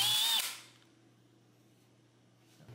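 A short, loud burst of a power drill whining at high speed while boring a pilot hole, then it cuts off, leaving a quiet low electrical hum.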